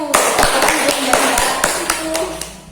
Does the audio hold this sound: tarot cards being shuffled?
no